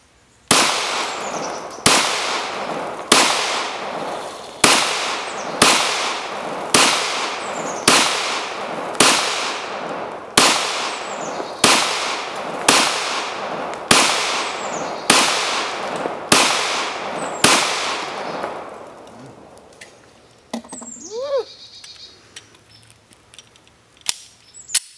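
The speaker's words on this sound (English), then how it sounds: "Shooting my G22 Glock 40 cal." A Glock 22 .40 caliber pistol fires about fifteen loud, sharp shots at a steady pace of roughly one per second, each with a short ringing tail, before a quieter stretch of faint handling noises.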